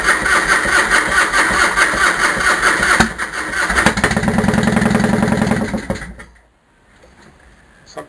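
A Harley-Davidson Fat Boy motorcycle cold-starts on full choke: the starter cranks loudly for a few seconds, the V-twin engine catches into a rough rumble, then cuts off into near silence.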